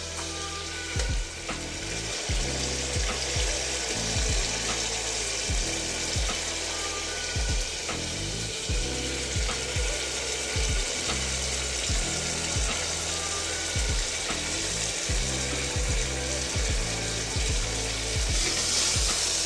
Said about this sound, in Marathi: एक अर्धा ते 1 जग आम्ही कोमट पाणी ॲड करतोय ह्याच्यामध्ये